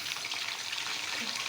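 A glass of water is poured into keema cooking in a pan, making a brief, close, hissing gush of liquid with a sizzling edge.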